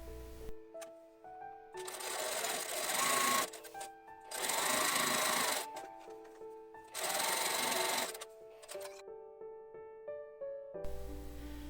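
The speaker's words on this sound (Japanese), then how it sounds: "外回りにロックミシンをかけます。" An overlock serger runs in three fast, buzzing bursts with quiet pauses between them while it stitches the outer edges of fabric for a square-yoke tunic dress.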